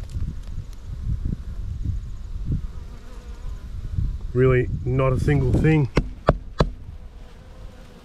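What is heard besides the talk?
honeybees buzzing around abandoned beehive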